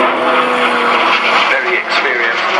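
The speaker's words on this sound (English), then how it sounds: "doing a nice little aerobatic display in this aircraft" Hunting Jet Provost jet trainer flying an aerobatic display at an air day, a steady loud broadband engine roar with a slight dip partway, while a commentator speaks over it.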